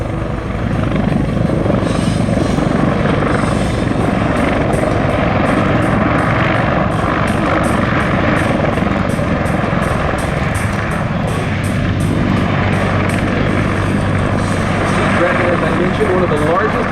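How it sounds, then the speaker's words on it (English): Loud, continuous thudding of a Sikorsky MH-53E Sea Dragon military helicopter's rotor with a steady engine whine, close and unbroken throughout. "One of the largest helicopters anywhere in the world."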